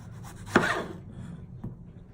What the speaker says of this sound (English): I'm gonna cut up the Roma tomatoes